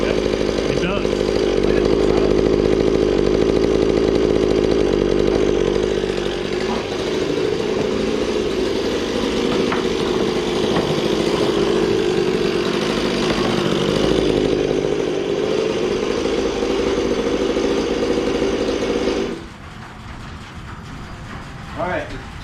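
A small two-stroke engine on a used Goped gas scooter runs close by with a buzzy, chainsaw-like drone, holding steady for about twenty seconds before dropping abruptly to a quieter idle.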